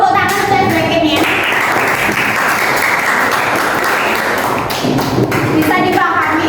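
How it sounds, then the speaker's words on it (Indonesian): A class of teacher-training students claps after an ice-breaking activity in a university session, a loud, continuous burst of many hands, with a voice speaking briefly at the start and again at the end. "Tepuk tangan untuk breaking-nya."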